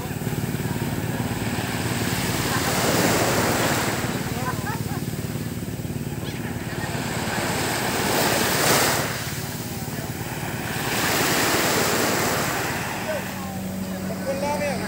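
Ocean waves wash steadily onto a beach at Laiya, Batangas, a continuous broad roar of surf swelling and easing in slow surges, with wind across the microphone and people talking faintly in the background.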